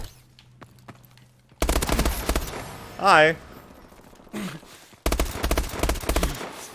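Bursts of automatic gunfire in Call of Duty Advanced Warfare, two loud rapid rattling volleys separated by a quieter stretch, with someone talking in between.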